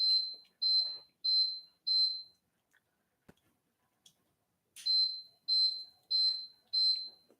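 A smoke detector chirps in two bursts of four short, shrill beeps each, with a quiet gap and faint clicks between the sets, heard alone and close by.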